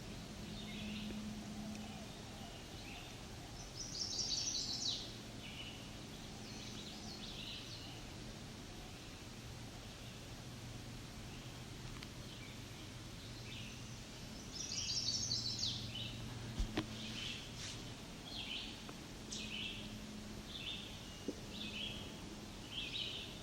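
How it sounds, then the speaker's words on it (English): A chestnut-sided warbler sings two bright, quick phrases some seconds apart, with scattered faint ticking calls between them over a quiet outdoor juniper-flats background. "I believe it's our chestnut-sided warbler that's ticking."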